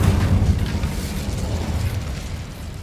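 Incendio fire spell blasting in Hogwarts Legacy, a loud rumbling burst of fiery boom that holds steady and slowly fades over a few seconds, with no talk.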